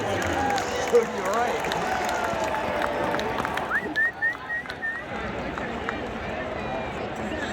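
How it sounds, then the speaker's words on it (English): Stadium homecoming crowd applauding alumni and service award winners: a broad, roaring wash of clapping and cheering from a large distant crowd, steady throughout, with a few whistles and shouts rising above it. "Please join me in one last round of applause for our 2025 Homecoming Alumni and Service Award winners."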